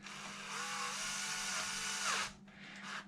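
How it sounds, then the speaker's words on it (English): A cordless power drill spins nylock nuts on lug studs in a garage, a high whirring motor that runs for about two seconds, stops, then briefly spins again, fairly close. "it's just a drill."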